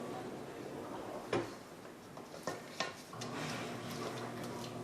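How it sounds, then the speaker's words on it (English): Thick almond crunch cookie dough being stirred in a bowl, with a steady soft scraping texture and a few brief utensil knocks against the side, close and fairly quiet. "you're going to want to stir it a little bit."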